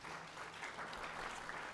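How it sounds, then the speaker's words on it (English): Audience applause at a meeting, brief and faint, a thin patter of clapping from a partial crowd heard from some distance. "Can I get a quick round of applause from anyone who's used our new system?"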